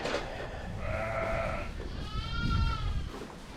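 Sheep and lambs bleating in a drafty barn, two distinct wavering bleats in succession, fairly close, over a low background rumble.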